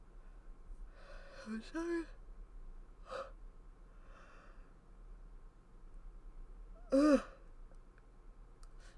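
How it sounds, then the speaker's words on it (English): A person yawns, with a few quiet breathy sighs followed by one louder, drawn-out yawn near the end, and they speak briefly in a low voice. "I'm gonna yawn."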